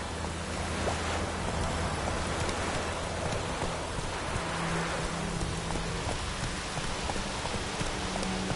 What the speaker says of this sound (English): Does the sun ever shine in this land? Let it rain.